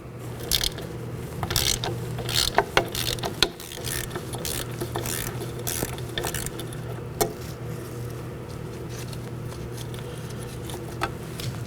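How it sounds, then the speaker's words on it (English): Ratchet clicking in irregular bursts as two 10mm wheel cylinder mounting bolts are removed on a 2013-2019 Nissan Sentra, close and fairly quiet over a steady low hum, with scattered sharp metallic ticks. "going to locate my two 10mm mounting bolts for the wheel cylinder and remove those."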